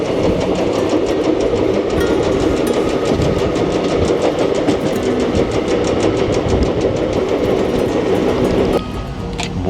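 The 13019 Howrah–Kathgodam Bagh Express roars past close by, with a loud continuous rumble and rapid rhythmic clatter of wheels over rail joints that suddenly drops off at the end as the last coach clears.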